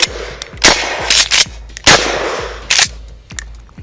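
A Mossberg 500 shotgun fires several sharp, loud blasts in an irregular rhythm outdoors, each report ringing out briefly before the next shot.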